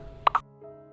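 Quarter cup of cocoa powder drops into a bowl with two quick, close plopping thuds, followed by quiet kitchen background.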